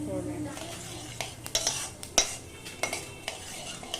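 Black cumin frying in white oil in a wok, a soft background sizzle broken by several clinks and scrapes of a spoon stirring against the pan, fairly quiet and close.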